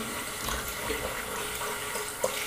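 A tap runs steadily into a sink while a shaving brush is rinsed clean, a continuous hiss of water close by, with a small splash near the end.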